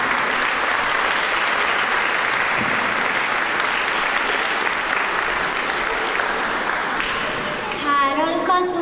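Loud, sustained clapping from a crowd at a patriotic concert fills the whole stretch, steady and enthusiastic, tapering slightly near the end as a voice begins.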